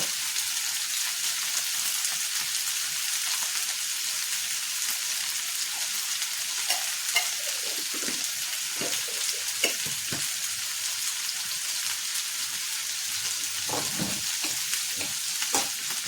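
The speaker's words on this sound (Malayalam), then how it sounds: "ഇനി നമുക്ക് ഇതിലോട്ട് കുറച്ച് വെളുത്തുള്ളി ഇഞ്ചി പേസ്റ്റ് ഇട്ട് കൊടുക്കാം" Garlic ginger paste sautés in a hot pan with a loud, steady sizzle that runs the whole time, with faint scraping as it is stirred and no voices.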